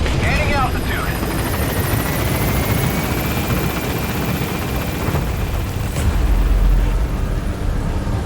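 An extraction helicopter in Metal Gear Solid V lifts off, its loud steady rotor thrum carrying under radio voices and sharp high whines, with a deep boom swelling near the end.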